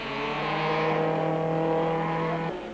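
A Ford race truck with a rapidly disintegrating tyre drives hard, its engine holding a steady loud harmonic drone near the listener before the pitch drops abruptly near the end, with no voices.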